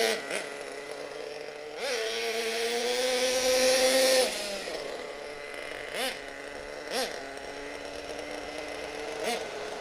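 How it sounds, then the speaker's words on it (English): A twin-engine nitro RC monster truck runs on only one of its two engines, a steady high buzzing whine that swells in a short rev, then idles with small periodic blips. "Only one of the engines is going guys."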